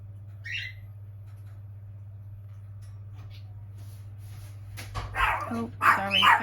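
A pet dog named Lucky barks at the postman from indoors in a few sharp, fairly close bursts near the end, after a quiet stretch with steady hum.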